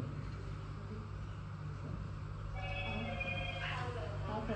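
A mobile phone rings during a Sunday church service, its faint electronic trill starting partway through under a low background hum.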